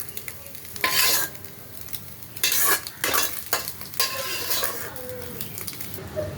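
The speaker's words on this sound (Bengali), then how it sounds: "এই যে ডিমটা একদম গুঁড়ো করে নিয়েছি" Egg being scrambled and crumbled in a hot pan, with sizzling under repeated scraping and stirring strokes of a utensil against the metal, loud and close with uneven bursts.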